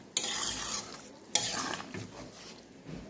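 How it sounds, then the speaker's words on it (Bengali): Fish and cauliflower curry with ground cumin is stirred in a pan, with two sharp scraping strokes over a soft, steady sizzle, close and fairly quiet. "একটু নেড়ে দিলাম"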